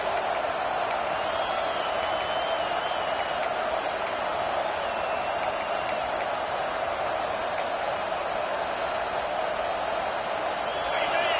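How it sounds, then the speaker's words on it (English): Loud stadium crowd at a college football game against Mississippi State roars continuously for the whole stretch, a dense, steady wall of cheering with no break. "This crowd, full throat, splitting the eardrums"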